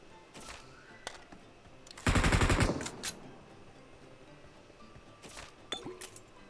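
Automatic gunfire in PUBG Mobile, a loud rapid burst of shots lasting about half a second midway, with scattered fainter distant shots and clicks around it.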